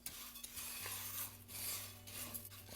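Quiet, steady stirring and scraping of oats dry-roasting in a pan over medium heat, with a soft continuous hum underneath and occasional light clinks.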